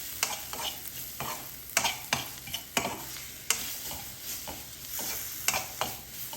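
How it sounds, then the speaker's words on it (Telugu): A spoon stirs egg curry in a frying pan, scraping in irregular strokes roughly twice a second over a soft background sizzle, close and with no talk. "ఒకసారి కలుపుకొని"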